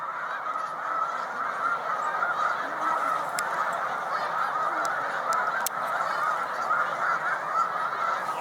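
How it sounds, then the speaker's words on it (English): A large flock of snow geese on Cayuga Lake honks continuously in a dense, overlapping chorus, steady and moderately distant, with a few sharper calls standing out now and then. "we're watching snow geese"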